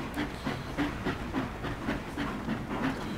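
Steam-powered truck chugging along in the off-road game Spintires MR, a steady rhythmic puffing with hissing bursts repeating about every half second, continuous and fairly loud with no voices.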